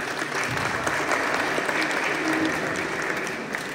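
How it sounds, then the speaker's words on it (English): Crowd applause for George Galloway at a Workers' Party election rally in Northern England, a dense continuous clapping that stays steady and full throughout, heard from within the audience. "A round of applause for George, please."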